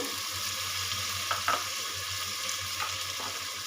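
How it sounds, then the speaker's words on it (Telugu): Vegetables such as peas tossed into a hot pan for vegetable pulav give a steady, close sizzle with a few brief stirring scrapes and clinks. "ఇప్పుడు ఇందులో వెజిటేబుల్స్ అంతా వేసుకోవాలి."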